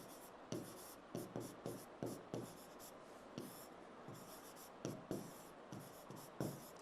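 Chalk or marker strokes on a classroom board as a teacher writes, a steady series of short scratchy strokes with brief pauses between words, heard alone without speech.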